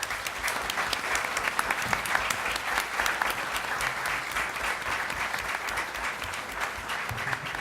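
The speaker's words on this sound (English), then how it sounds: "Let's get a round of applause for Chris." Audience applauding a comedian at a comedy talk event, a continuous even wash of many hands clapping, moderately distant and fairly quiet, holding steady without speech.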